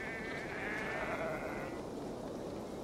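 A sheep in the video game Assassin's Creed Valhalla bleats in a drawn-out, wavering call over a steady background hum, then the bleat fades away.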